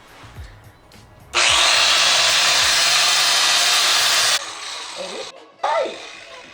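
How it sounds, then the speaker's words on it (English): A Milwaukee grinder grinds down spot welds on a car body during an LS2 swap into a Subaru BRZ, one loud sustained burst of about three seconds, then a shorter burst after a pause with faint speech around it. "I'm just gonna grind it down until it's unspot welded."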